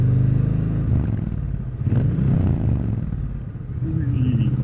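A Triumph Bonneville T120 motorcycle engine revs up sharply after accidentally slipping into neutral, a loud close rasping exhaust burst that rises, dips and swells again.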